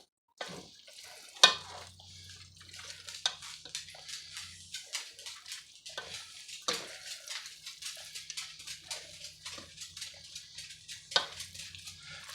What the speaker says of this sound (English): I'm going to go ahead, stir it up.